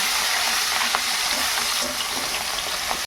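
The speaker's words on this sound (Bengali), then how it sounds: "চুনো মাছগুলো দিয়ে দেবো এগুলো একটু ভেজে নেবো" Small chuno fish fry in hot oil, a dense, close, continuous sizzle with light crackling and no speech over it.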